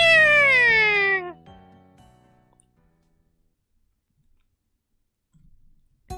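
A cartoon cat in the video game Sweet Spice Summoner gives one loud, drawn-out meow that slides downward in pitch, followed by a few soft clicks and near silence.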